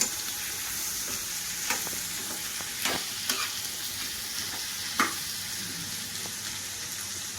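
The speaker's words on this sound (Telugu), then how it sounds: "కాసేపు వేయించుకుందాము" Flat beans (chikkudukaya) fry in a pan with a soft, steady sizzle, punctuated by occasional stirring scrapes and taps.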